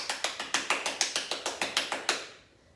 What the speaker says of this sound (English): I could clap with my hand and put them all close together like this